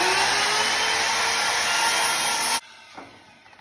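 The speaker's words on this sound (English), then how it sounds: "So we'll cut that up on the miter saw." A miter saw slicing through a scrap 2x6 board, a loud, steady high whine for about two and a half seconds that cuts off abruptly, followed by a quiet wind-down and a light thud.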